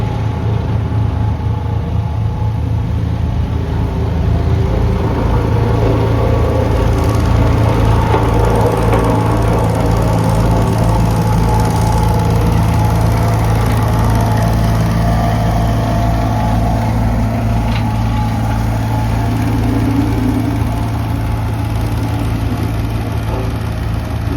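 Machine engine running steadily while digging a forest road line through cleared timber, a continuous low rumble with mid-range churn that holds at an even, fairly loud level throughout with no speech.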